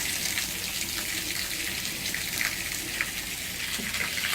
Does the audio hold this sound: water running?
yes